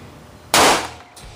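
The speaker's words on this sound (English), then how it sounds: "So next up is the 357 Magnum. 357 Magnum, 6 feet away." .357 Magnum revolver fired at a target six feet away, a single sharp loud blast that decays over a fraction of a second, with a faint second impact shortly after; no talking.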